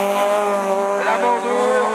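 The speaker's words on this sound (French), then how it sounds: "Deuxième, l'étonnant Mercier, et sa petite 205" Division 4 rallycross race cars at Lessay, among them a small Peugeot 205, roar past loudly with a steady high-revving engine drone and tire squeal, with no talk over it.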